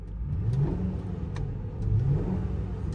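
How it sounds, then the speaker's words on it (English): A 2002 Ford Thunderbird engine gives two quick revs, rising then settling back toward idle, heard close and fairly quiet with no talking. "Give you a quick little rev."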